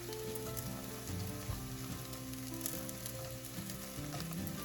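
Slices of keto French toast made from egg loaf sizzle in a pan. The frying is steady and soft and goes on without a break, with small crackles and pops and no voices.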